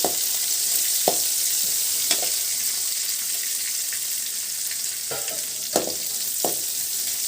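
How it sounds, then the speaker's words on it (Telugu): Onion, garlic and curry leaves fry in a pan for Andhra-style mango pachadi, a steady close sizzle running throughout with a few brief louder stirring scrapes and pops. "ఇప్పుడు ఎర్రగడ్డ తెల్లగడ్డ కరివేపాకు మూడు వేస్తున్నామండి"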